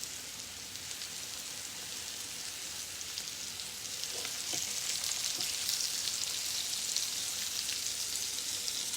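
Wood ear and oyster mushrooms fry in a pan with a steady, crackling sizzle that grows a little louder midway through, close and continuous with no talking.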